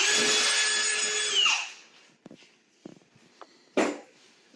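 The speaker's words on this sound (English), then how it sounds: "I took a drill with a drill bit" A power drill whirs loudly for over a second as it drills through a wall and winds down, followed by a few scattered knocks and clatters.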